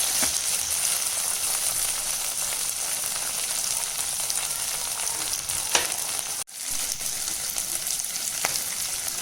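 Red chili paste sizzles and fries steadily in a hot pan while making honey chilli paneer, a continuous close crackle with a couple of brief stirring clicks and one short dip partway through.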